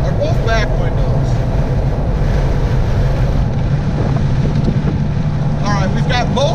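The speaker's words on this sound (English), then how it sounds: "I'm getting a ton more wind now inside the truck" Wind buffets and roars inside a Toyota Tacoma pickup cab while driving with the rear windows open, a loud continuous rushing drone with low rumble, with brief chirping sounds over it.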